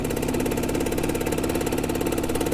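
A 1990 Simson S51 moped engine runs steadily at close range, its fast, even two-stroke pulsing sustained throughout with no voices over it.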